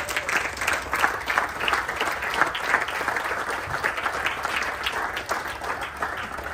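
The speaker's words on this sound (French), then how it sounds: "Give the Lord a hand clap." A congregation standing to applaud in praise at a church gathering, steady sustained clapping from many hands filling the whole stretch at moderate loudness, with no voices standing out.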